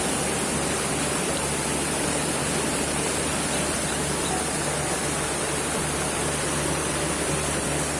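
Curug Kembar Batulayang, a twin waterfall at Puncak, Cisarua, Bogor, roars as a loud, steady broadband rush of falling water that fills the whole stretch without a break.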